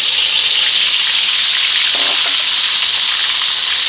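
Loud, steady sizzling of spice paste frying in hot oil, close up and continuous, with a faint clink partway through.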